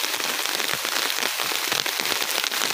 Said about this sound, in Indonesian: berhubung hujannya semakin deras